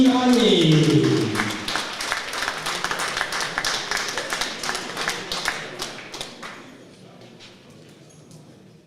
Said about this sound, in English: please keep your applause going for our silver medalist